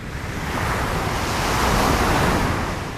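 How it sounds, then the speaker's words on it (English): Waves rush onto a pebble beach and draw back in a single broad surge of loud, hissing surf, close by and mixed with wind noise. "the waves winnow, sift and sort the pebbles on this beach"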